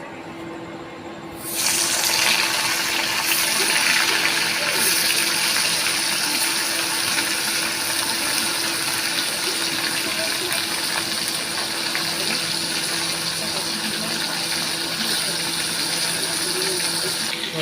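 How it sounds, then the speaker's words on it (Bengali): Pieces of hilsa fish drop into hot oil in a pan, setting off a loud, dense sizzle that begins abruptly and then holds steady and close without letting up. "তেলটা আমার গরম হয়ে গেছে এবার আমি মাছগুলোকে ছেড়ে দেবো"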